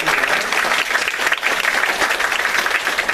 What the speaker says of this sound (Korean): 이 시간에 우리 격려하는 박수 한번 하도록